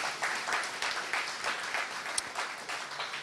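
A church congregation claps and cheers in praise of the Lord, a steady wash of applause with scattered voices, moderately loud and filling the room without pause.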